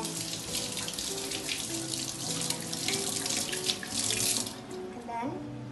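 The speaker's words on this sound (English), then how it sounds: "Now I need to wash my hands. First of all, rinse your hands." A tap runs steadily into a sink as hands are rinsed under the stream, a loud continuous splash that swells slightly as the hands move through the water, close up.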